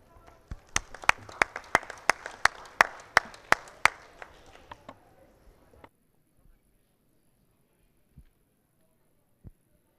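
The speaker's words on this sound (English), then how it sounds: "maybe you can join me in giving our presenters one more round of applause" A small audience at a presentation event gives a round of applause for the presenters: sharp, distinct claps in a steady rhythm that thin out and fade within a few seconds, leaving a few stray claps afterward.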